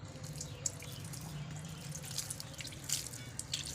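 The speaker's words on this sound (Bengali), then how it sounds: "আজকে একটু জল দিয়ে দিচ্ছি" Water trickling and dripping onto soil while a newly planted marigold is watered, a soft steady patter close by with faint higher splashes, no talking.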